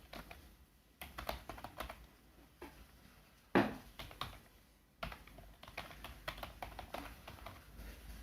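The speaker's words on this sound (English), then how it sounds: "So let me enter the password now." Quiet clicking of a computer keyboard as a password is typed, irregular bursts of keystrokes with brief pauses and one sharper louder tap, no voices.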